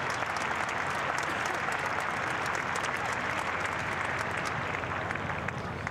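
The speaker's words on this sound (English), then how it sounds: "give them another round of applause so they really can hear it" Steady, sustained crowd applause from spectators in the outdoor main ring of an agricultural show, a dense continuous patter heard at a moderate distance.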